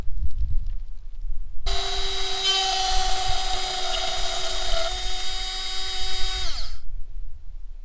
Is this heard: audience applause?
no